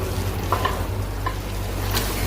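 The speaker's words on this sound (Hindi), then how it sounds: "फिर आपने अच्छे से मिक्स कर लेने हैं ताकि तमाम मसाले सब चीजों के अंदर धस जाएं।" Spices, oregano and chopped vegetables with capsicum sizzle in a hot pan for chicken spaghetti, a close, continuous frying hiss with a few light spoon taps while the mixture is stirred.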